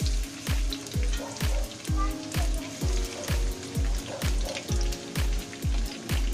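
Honey chicken frying in a pan gives a steady, close sizzle with a regular thumping pulse running underneath it throughout, and no voices.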